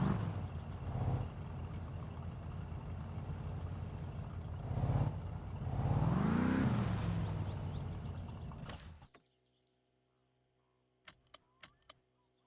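A loud muscle car engine in the video game My Summer Car rumbles steadily, rising in a revving surge, then cuts off abruptly, followed by a few sharp clicks in near silence.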